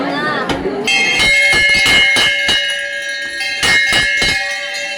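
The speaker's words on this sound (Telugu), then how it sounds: "గుడి గంటలు ఇవి." Metal temple bells at the Rangaswamy temple in Pullala Cheruvu ring close and loud in a rapid, irregular series of strikes, with a long shimmering ring that overlaps between hits and a voice briefly audible among them.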